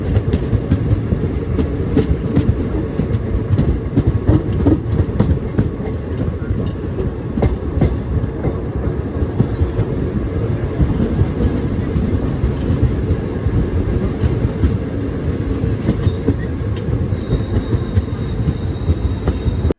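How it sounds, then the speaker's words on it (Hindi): The Khandesh Express runs overnight, its coach carrying a constant loud rumbling roar with steady clickety-clack of wheels over rail joints throughout. "हमारी ये खानदेश एक्सप्रेस पहुंच चुकी है गुजरात स्टेट के वेस्टर्न रेलवे स्टेशन"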